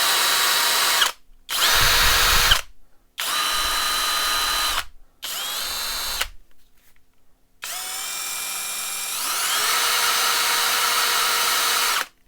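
Parkside Performance 12V cordless drill-driver with a bit in the chuck, whirring in several close, loud bursts separated by short pauses, then one longer run whose pitch climbs as it speeds up.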